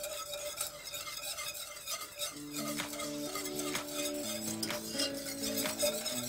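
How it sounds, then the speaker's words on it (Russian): A spoon scrapes and clinks around a pot of sauce with paprika and flour simmering on low heat on the stove, in repeated stirring strokes, with a soft sizzle underneath and quiet music playing in the background. "размешиваю и варю на медленном огне минут"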